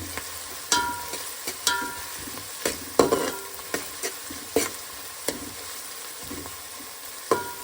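Chicken masala gravy made with shop-bought masala fries in a pan with a steady sizzle, broken by sharp scrapes and clinks of a spoon stirring it every second or so.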